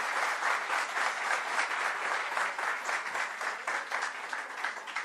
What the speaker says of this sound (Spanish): Un aplauso muy merecido